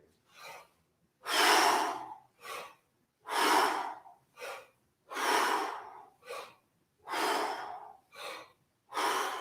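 Deep breathing during breath squats, with about five long, forceful exhales alternating with short, sharp inhales in a steady rhythm, close to the microphone and without talk.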